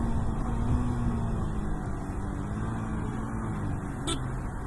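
A motorbike cruises at about 80 in traffic with no working ABS, a steady broadband engine and wind roar heard from the rider's position, constant and unbroken with a brief high squeak near the end.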